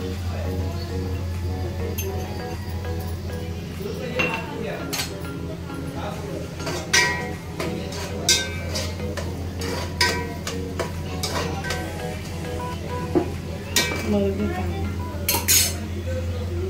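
Garlic goes into a pan on a low gas flame while cooking chicken biryani, with repeated metal spoon clinks and scraping against the pan over a steady low hum, as someone talks intermittently.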